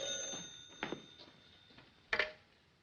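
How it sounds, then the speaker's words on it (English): An old telephone bell rings in short metallic bursts, a couple of quick rings followed by a louder one near the end, in a quiet room. "Answer the phone."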